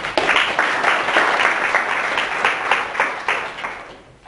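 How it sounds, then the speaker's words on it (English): Loud audience applause in a lecture hall, a thick continuous roar of many hands clapping at close range that gradually thins out at the end. "Give them a big round of applause."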